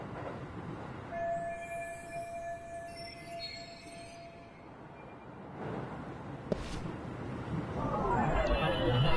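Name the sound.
commuter train running, from a video game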